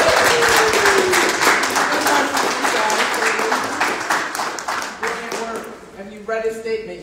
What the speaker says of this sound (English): please applaud him as he comes up